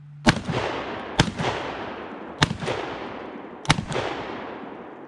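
Four loud, sharp gunshots from a Charles Daly 601 DPS shotgun fired from the hip, spaced about a second apart, each with a long ringing outdoor decay.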